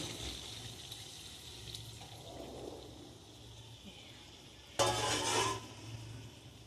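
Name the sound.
hot water poured into cooking chicken curry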